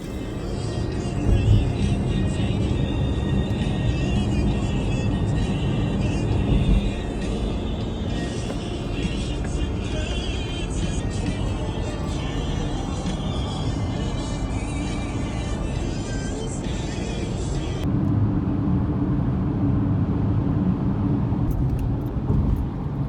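A car cruises on a long country drive, a steady low road rumble and tire noise heard from inside the cabin, constant and fairly quiet throughout with a faint change in the upper hiss near the end.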